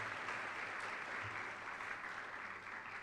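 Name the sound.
audience applause after a dance performance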